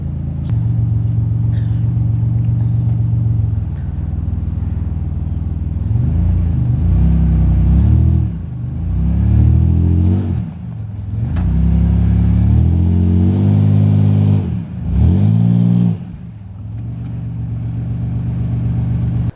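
A car engine revs hard in repeated surges while the car reverses, each burst climbing and falling in pitch over a steady idling rumble, loud and close, with no talking.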